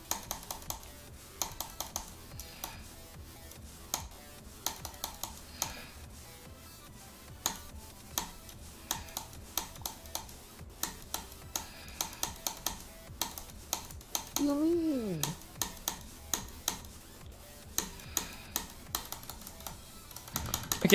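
Rapid keyboard clicking while playing a rhythm game, the keys tapped in quick patterned bursts close to the microphone, with game music and a faint voice underneath.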